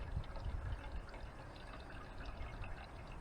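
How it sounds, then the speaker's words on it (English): Liquid pours and trickles softly out of a jar while refining silver plate, a faint, gentle splashing stream with no talking. "Probably easier to pour it out of this jar."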